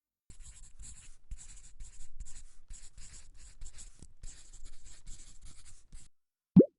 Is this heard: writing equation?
yes